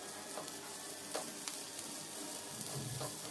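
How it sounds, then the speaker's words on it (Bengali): Chopped onion and green chilli slices frying together in oil, a steady dense sizzle with a few faint stirring scrapes, close and continuous with no talking. "তারপর এই সব কিছুকে একসাথে ভেজে নেব"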